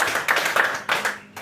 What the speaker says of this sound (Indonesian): Jadi kita tepuk tangan dulu pada diri kita masing-masing.